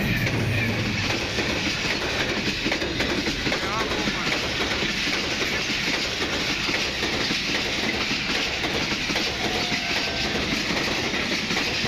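A train rolls past on the rails close by, with continuous loud rumbling and rhythmic wheel clatter, steady throughout with no pauses.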